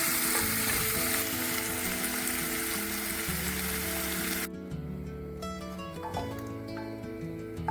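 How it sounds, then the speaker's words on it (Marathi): Paneer fries in butter in a pan with a loud, close, continuous sizzle that drops abruptly to a softer crackle partway through, along with some faint stirring. "पनीर आपण बटरमध्ये छान परतून घेऊया."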